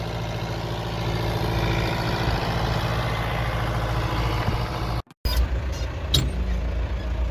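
A tractor engine runs with a steady low rumble close by, broken by one brief cutout partway through before the running sound resumes.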